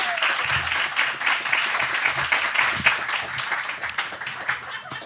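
Audience applause at a Devyn Keith talk at Dark Side, a steady round of clapping for several seconds with some chatter mixed in.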